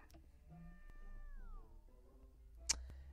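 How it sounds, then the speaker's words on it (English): A cat in the video game Nekopara gives a single drawn-out meow that bends downward, fairly faint over a low background hum, followed by a brief sharp click near the end. "And there's the cat."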